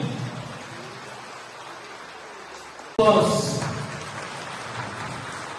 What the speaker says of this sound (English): Hand of applause again, please. A little louder this time.